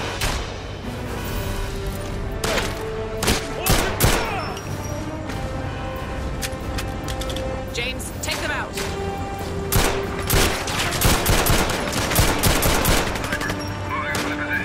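Dense gunfire from the video game James Bond 007 Legends, with repeated loud shots and bursts in irregular clusters throughout, under a steady game soundtrack and occasional talk.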